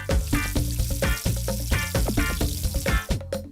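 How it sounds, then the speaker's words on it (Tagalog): Ginger, garlic and onion sizzle in hot oil in a pan while they are sautéed for ginataang tilapia in Calumpit, Bulacan. The frying sound is close and crackling, broken by repeated clinks and scrapes of stirring and no voices. "Igigisa muna ang luya, bawang"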